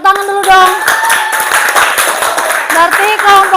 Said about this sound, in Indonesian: ya tepuk tangan dulu dong.